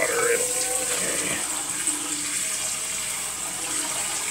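Water runs steadily from a kitchen sink tap for several seconds, a continuous hissing splash with faint clinks at the start.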